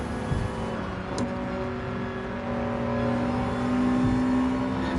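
Jaguar engine in a racing video game, a steady droning hum that rises in pitch and swells slightly louder in the second half, with a brief click early on.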